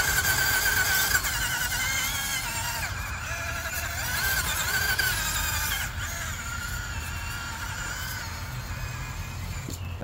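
An RC car on Injora 70mm Cling On tyres spins its wheels while climbing a steep bank: a continuous high-pitched motor whine that wavers in pitch, fairly loud and close throughout over outdoor background noise.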